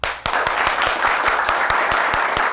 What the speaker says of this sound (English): I want everybody to clap really loud